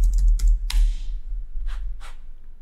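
Keys clatter on a computer keyboard as a ChatGPT prompt is typed: a quick burst of close, crisp clicks at the start, then two softer isolated taps near the end.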